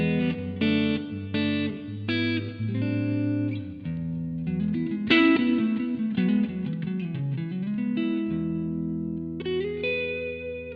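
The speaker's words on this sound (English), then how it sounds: "So I've got my guitar going straight into the amp with a bit of reverb added in from Logic" A clean electric guitar played straight into the amp with added reverb plays a slow line of notes and chords with a spacious reverb tail, moderately loud, no talking.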